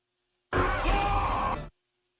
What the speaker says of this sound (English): The yell sounds kind of lower pitched than Ralph's pig hollering.